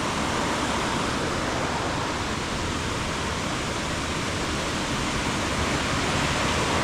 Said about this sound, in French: On va venir à cette petite cascade.